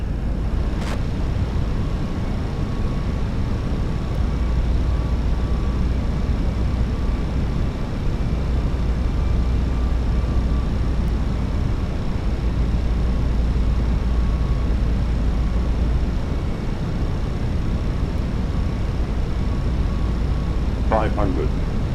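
A steady, loud engine roar from an airliner taking off on runway 27 right in Microsoft Flight Simulator, holding an even level for the full stretch and joined by a couple of faint clicks.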